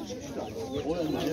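Chickens and roosters at a poultry market, with short clucks and squawks close by and a background of mixed market voices.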